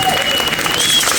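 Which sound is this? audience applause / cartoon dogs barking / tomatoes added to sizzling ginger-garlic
audience applause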